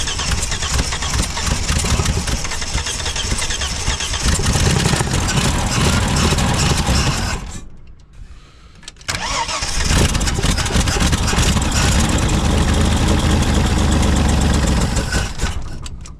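A Holden HQ one-tonner engine cranks, catches and runs loud and close, revving steadily, dropping out briefly around the middle, then roaring back into a sustained rough run.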